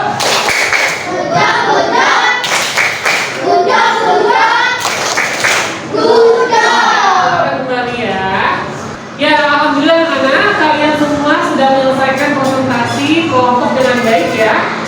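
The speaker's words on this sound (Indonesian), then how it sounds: "kita kasih tepuk puja untuk kelompok 6" Schoolchildren in an Indonesian classroom chant the "tepuk puja" together in a loud group, punctuated by rhythmic bursts of clapping, with their voices carrying the chant between the claps.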